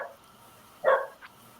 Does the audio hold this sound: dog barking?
yes